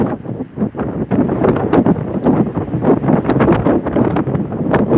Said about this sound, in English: you can see that it's very windy